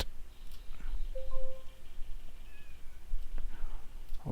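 A house cat gives a couple of short meows at moderate distance over steady room noise, with a clunk or two near the end.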